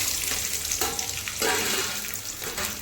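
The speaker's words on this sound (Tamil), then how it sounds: "வெங்காயம் கலர் சேஞ்ச் ஆகி வர வரைக்கும் வதக்கிக்கலாம்." Onions with ginger and garlic sauté in a little oil in a kadai, a close, continuous sizzle with soft scraping and stirring strokes through it, no voices.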